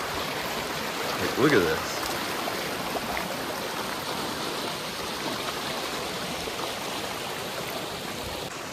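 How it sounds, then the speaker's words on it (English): Two creeks run into a lake in winter, making a constant broadband rush of flowing water close by. A person speaks briefly early on. "Look at these two creeks that were going beside me into the lake."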